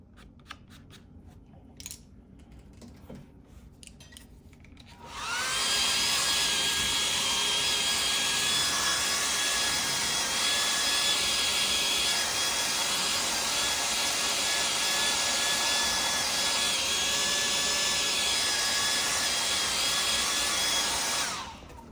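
After a few quiet seconds, a hair dryer switches on and blows with a steady, loud whirring hiss for about fifteen seconds before cutting off.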